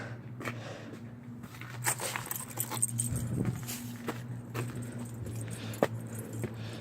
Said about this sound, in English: where are my house keys?